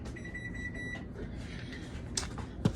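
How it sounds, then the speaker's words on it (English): A kitchen timer beeps while food is being baked: a rapid, high electronic tone repeats for about a second, then stops, leaving quiet room noise and a couple of small knocks. "let me turn my timer off"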